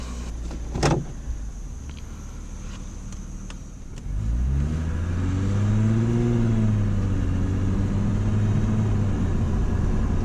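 A 2007 Lexus IS 350 engine with 177,773 miles rumbles low, then from about four seconds pulls harder with rising, steady revs as the car climbs a hill, a brief clunk near the start.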